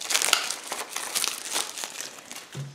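Plastic toy packaging is ripped and crinkled open in a rapid series of sharp crackling tears and rustles, close and fairly loud, ending with a short low thump.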